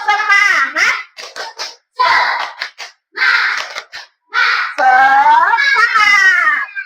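Students in a classroom do the 'tepuk semangat' clapping chant: bursts of group claps alternate with loud, chanted children's voices in short rhythmic phrases, ending in a sustained shout.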